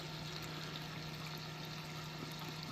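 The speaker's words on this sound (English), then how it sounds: "Sound of running water" Steady running water trickling over a small hyalite opal waterfall, a constant even wash with a low pump-like hum underneath, close and quiet, no voices.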